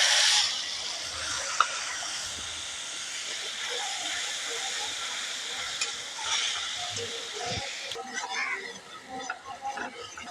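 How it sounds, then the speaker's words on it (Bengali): Spice paste mixed with water hits a hot pan in a loud burst of hissing steam that settles into a continuous, close sizzle with faint stirring sounds, fading somewhat toward the end. "জল দিয়ে গুলিয়ে রাখা মশলাগুলো এখন দিয়ে দেবো।"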